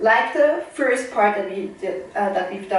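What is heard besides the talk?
None of the usual background noises is heard.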